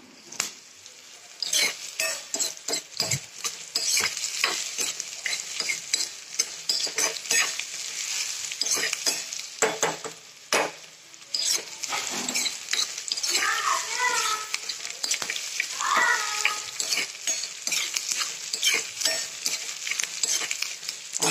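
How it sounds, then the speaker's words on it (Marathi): Chopped onion fries and sizzles in a pan as a spoon scrapes and stirs it in repeated strokes, with voices, including a child's, talking over the cooking. "आता हे कांदा चांगला भाजू देते."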